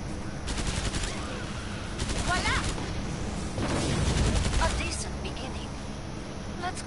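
Rapid automatic gunfire and bursts of shots in the video game Killing Floor 2, dense and continuous, with a player's voice and game voices talking over it.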